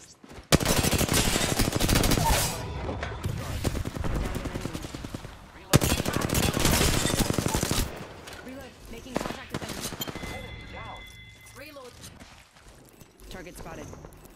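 Dense automatic gunfire from an Apex Legends match rattles loudly in sustained bursts for most of the stretch, with a brief gap, then thins into scattered shots and game effects; in-game voice callouts come through at times.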